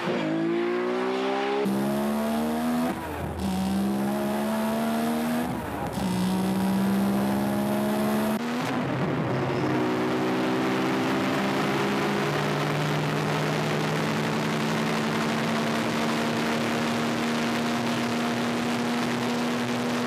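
Nissan R33 GT-R with RB26DETT engine accelerating hard, a loud close howl climbing in pitch through several quick gear changes with short breaks, then settling into a sustained high-revving drone.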